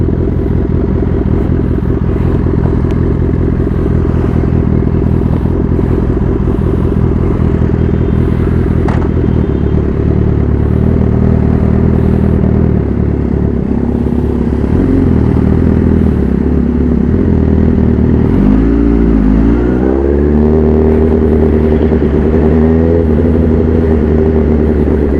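A 2012 Honda CBR 1000RR 20th Anniversary sportbike ridden on a city street, its loud engine droning steadily close up, rising and falling as the rider slows and pulls a U-turn, with wind rumble and no talk.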